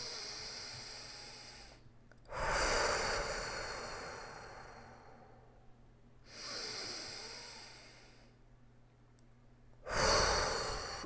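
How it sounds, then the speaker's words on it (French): Slow deep breaths during a muscle-tension relaxation exercise: three long, close exhalations with quiet gaps of near silence between them, no talking. "on va serrer fort pendant quelques secondes en respirant dans la zone"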